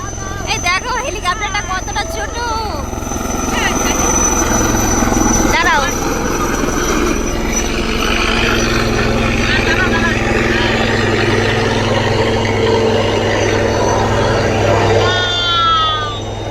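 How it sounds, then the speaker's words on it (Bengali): A helicopter comes in to land at an army camp at night, its steady rotor and engine drone loud and continuous throughout, with people talking excitedly over it. "দেখো হেলিকপ্টার নামছে"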